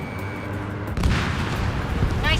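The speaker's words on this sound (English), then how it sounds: "Missile launched." Missile launch from a jet in Ace Combat 7: after a steady engine drone, a sudden loud rushing blast, then a sustained roar, with a radio voice briefly audible.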